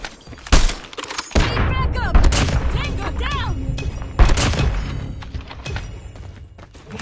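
Gunshots ring out during a Search and Destroy match in a first-person shooter, including sniper-rifle fire, with loud sharp bursts near the start and middle over a steady game background while a player talks.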